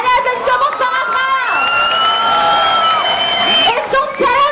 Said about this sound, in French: Applaudissements, chers amis.